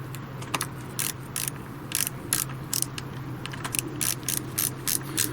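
A wrench loosening a chainring bolt on a road bike: a series of quick metallic ratcheting clicks in irregular bursts, close and fairly quiet, over a low steady background hum.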